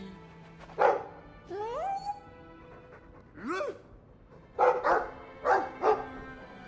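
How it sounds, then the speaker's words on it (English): A Mabari war dog in the Dragon Age 2 video game gives several short, close barks and yips spaced irregularly, with a couple of rising whine-like calls between them and faint game ambience underneath. "I like the doggy."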